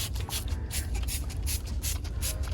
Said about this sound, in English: I'm gonna spray them real good with neem oil just in case